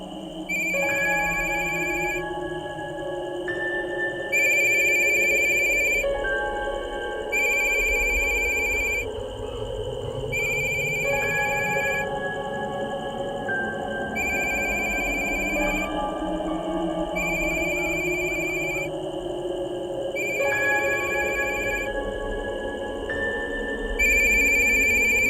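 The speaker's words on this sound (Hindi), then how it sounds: "चार दिन से विनय घर पर फ़ोन किए जा रहा था नीलम और अपनी माँ से बात करने के लिए, लेकिन उसका फ़ोन उठाने के लिए घर पर अब कोई नहीं था।" A home telephone rings again and again with no one answering, a steady repeating ring pattern with short pauses, loud and close over a soft background.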